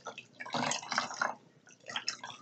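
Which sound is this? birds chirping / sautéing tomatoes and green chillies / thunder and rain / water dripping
water dripping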